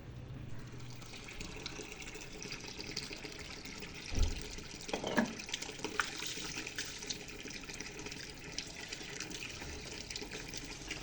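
A tap runs steadily at a sink while meat and vegetables are washed in a village kitchen, a faint continuous stream with a few brief clunks and splashes partway through, no talk.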